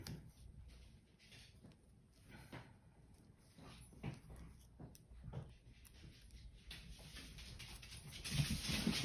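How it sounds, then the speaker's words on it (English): Dogs play with noisy toys indoors, giving scattered thumps, squeaks and rustles at moderate level with a brief louder burst near the end, set against a low steady background hum. "Dogs have started, decided they want to start playing with their noisy toys"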